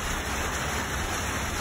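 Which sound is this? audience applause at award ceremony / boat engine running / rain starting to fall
rain starting to fall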